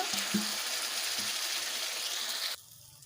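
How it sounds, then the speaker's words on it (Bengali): Spices, dried red chilli, cumin and Kashmiri chilli powder, frying in oil with a little water for koi fish curry, giving a loud, even close sizzle with a few soft clicks early on, cutting off abruptly near the end. "সামান্য পরিমাণ জল দিয়ে ভালোভাবে কষে নেব"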